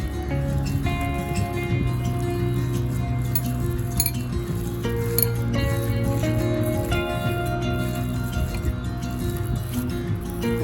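Chicken momo filling is mixed by hand with pepper powder and soy sauce, giving repeated light clinks and soft squishing from the bowl over a steady low hum.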